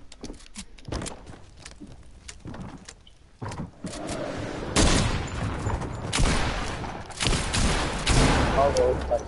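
Fortnite gunfire comes in bursts of sharp shots, scattered at first, then denser and louder volleys with rattling impacts. A voice talks in between.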